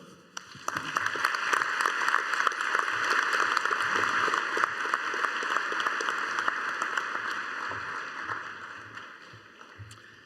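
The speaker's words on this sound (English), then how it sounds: "Let's give her one more round of applause." Sustained applause from a commencement ceremony crowd after a speech, dense steady clapping that swells, holds for several seconds and slowly fades.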